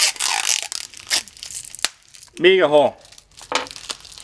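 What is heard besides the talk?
tape being torn and wrapped around a ball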